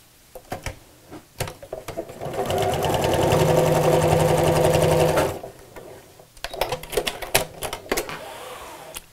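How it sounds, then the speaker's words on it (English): Top stitching on a laptop bag zip panel: a sewing machine whirs continuously for about three seconds, surrounded by scattered clicks and handling taps of fabric and machine before and after. "sew across the zip."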